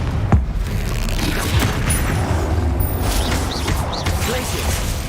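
A Confringo fire spell explodes in the Hogwarts Legacy video game, a deep booming blast among rumbling game effects, with a brief sharp burst early and continuous low crackling mechanisms and whooshes after.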